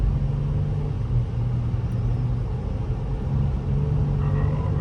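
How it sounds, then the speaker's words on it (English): A used car with an automatic transmission is driven on a test drive. A steady, low engine and road rumble continues throughout, close and even, with no voices. "Now we want to feel the transmission shift."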